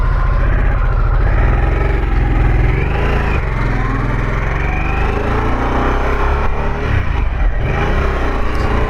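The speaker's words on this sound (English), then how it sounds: "This bike seems to handle pretty well." A 2021 Harley-Davidson Sportster S motorcycle being ridden on a leaf-strewn autumn road, with a loud, steady engine drone and a rise in revs partway through, plus wind rush and no talking.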